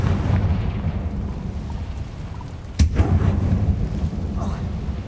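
A Confringo explosion spell in a Harry Potter video game bursts once with a sharp crack partway through, over a continuous low rumbling game background.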